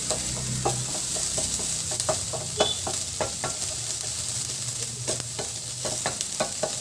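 Corned beef sizzles in a hot pan with sautéed onion and garlic, a steady frying hiss broken by repeated scraping stirs from a spatula, close and loud with no talking.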